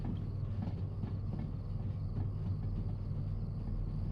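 Freight train hauling a short, heavy load of steel rails in the Derail Valley rail simulator, giving a steady low rumble with faint rail clatter as it rounds a bend, with no talk over it.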